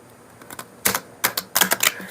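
Deck of playing cards being shuffled by hand, a quick series of crisp close riffling ticks and flutters in several short bursts.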